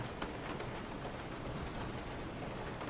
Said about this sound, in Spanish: Unos relámpagos, unos truenos ahí alejados.